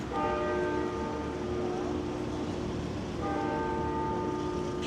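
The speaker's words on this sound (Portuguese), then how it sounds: "provavelmente vocês vão escutar o sino da igreja bater" Church bells strike the hour, eleven strokes, ringing out steadily against a loud, noisy outdoor town background, the tolling continuing throughout.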